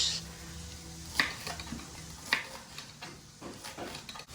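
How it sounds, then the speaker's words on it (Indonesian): Tofu half-fries in hot oil with a soft, continuous sizzle, broken by a few sharp clinks and scrapes of a utensil against the pan, fairly quiet and close, with no speech. "Sambil menunggu tahu yang digoreng setengah matang"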